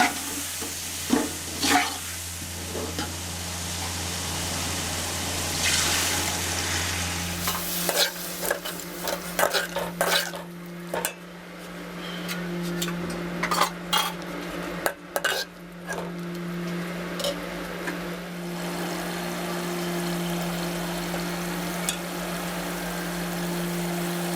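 Tomatoes frying in a pot for chicken biryani, a continuous sizzle broken by repeated metal spoon scrapes and clanks against the pot as they are stirred, with a steady hum underneath.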